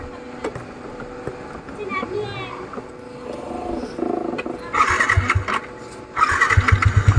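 A motorcycle engine on a motovlog ride in Assam coughs into life and revs in uneven bursts, the roaring pulses growing louder toward the end, with talking heard around it.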